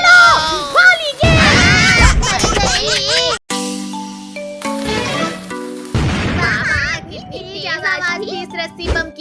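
A cartoon rope-bomb firecracker goes off during Diwali, a sharp booming burst in the middle of animated children's voices that talk excitedly before and after it.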